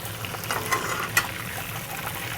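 Shrimp frying in hot oil, a steady close sizzle and crackle with a few sharper pops, no talking.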